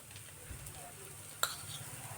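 Onion dosa cooks in oil on a hot pan, giving a faint, steady sizzle throughout with one brief click partway through.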